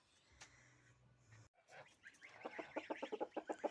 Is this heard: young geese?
yes